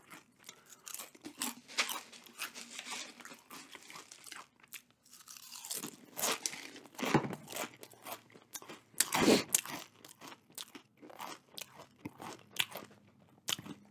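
Nacho Cheese Doritos Minis chips crunched and chewed close to the mic, a long run of crisp bites and crackly chewing with short pauses, no talk.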